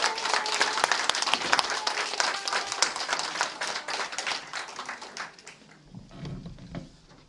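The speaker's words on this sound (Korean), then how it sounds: "큰 박수 부탁드리겠습니다" Enthusiastic applause from a crowd at a political party meeting's award presentation, dense clapping that holds steady for several seconds, then thins out and fades near the end.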